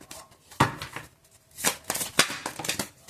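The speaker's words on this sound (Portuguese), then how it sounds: "Vou embaralhar" Tarot cards being shuffled by hand in a few quick riffling bursts, crisp papery flutters separated by short pauses, close and fairly soft with no one speaking.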